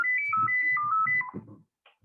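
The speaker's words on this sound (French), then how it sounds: "C'est rarissime que le téléphone fixe sonne." A landline telephone rings with a short electronic melody of stepping tones over a soft low murmur, then fades to near silence.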